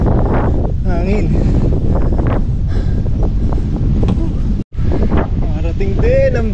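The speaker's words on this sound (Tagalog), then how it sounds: "Marating din ang bagyo." Strong wind of an approaching storm buffets the microphone at the Mt. Banahaw view deck, a loud continuous roar with gusty surges, while people talk excitedly over it.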